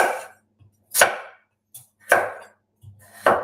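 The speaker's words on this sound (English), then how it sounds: "And for the speed's sake, I'll be fairly generous with my chopping." A knife chops through tough pumpkin on a cutting board, four sharp heavy thuds at roughly one-second intervals, close and distinct with quiet gaps and no talking.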